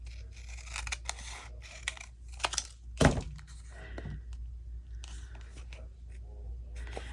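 Paper picture being trimmed with scissors while making slide-style ephemera, a single sharp close snip standing out over quiet room noise and a few soft handling taps.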